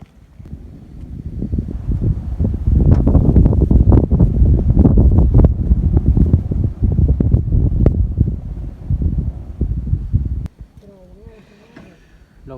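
Dry wind blowing outdoors in the countryside under sun, a loud, steady low roar buffeting the microphone for about ten seconds before dropping away, leaving faint background sounds.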